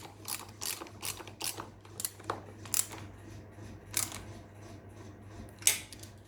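A ratchet wrench tightening a 10 mm bolt on a Royal Enfield Himalayan throttle body, with quick clicking bursts in an uneven rhythm, close and fairly quiet over a low hum.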